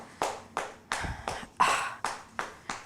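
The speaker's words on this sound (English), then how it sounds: "just give yourself a round of applause" A pregnancy yoga class claps together in a round of applause after a stretch, eight sharp, evenly spaced claps ringing in a room, with no speech over them.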